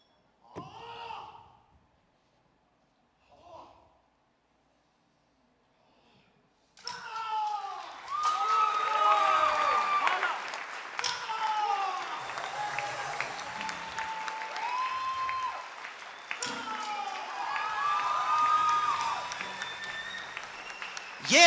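After a few quiet seconds and brief voices, a large audience breaks into sustained applause, loud and dense, with bursts of cheering and someone speaking over it.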